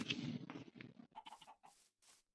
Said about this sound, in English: Oh, there's chicken.